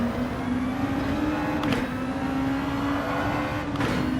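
A race car engine held at full throttle on the Catalunya circuit in a racing video game: one loud, steady, continuous drone with a brief ripple partway through and no speech.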